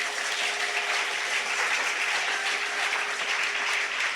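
Sustained, loud applause and cheering from a church congregation acclaiming God, dense and continuous for several seconds with no talk over it.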